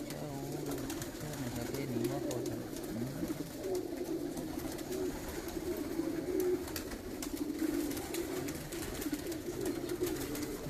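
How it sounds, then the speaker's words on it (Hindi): Pigeons coo repeatedly on a rooftop during a pigeon-flying tournament, soft rolling calls close by over a faint background hum, with no one speaking. "5 कबूतर बैठे हैं जनाब"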